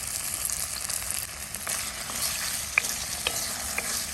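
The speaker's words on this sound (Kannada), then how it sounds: "2 ನಿಮಿಷ ಫ್ರೈ ಮಾಡಬೇಕು." Potato cubes fry in about two tablespoons of oil with chili powder, turmeric and salt, giving a steady close sizzle with a few sharp scrapes and clinks of a spoon against the pan.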